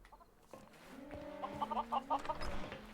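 Minecraft chickens cluck in a series of short, close, bright bursts that grow louder toward the end, with faint game ambience underneath.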